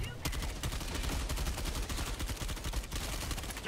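Rapid automatic assault rifle fire in the co-op shooter game Helldivers 2, a dense, loud stream of shots in quick succession sustained for several seconds.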